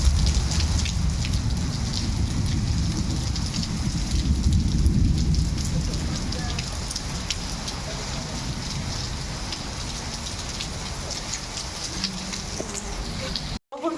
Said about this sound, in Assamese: বৰষুণ পৰি আছে, পৰি থাকক